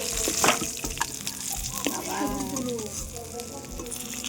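Katla fish frying in a pan, a steady crackling sizzle heard close up, with faint voices in the background.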